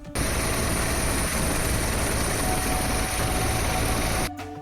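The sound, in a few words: helicopter showering flowers on pilgrims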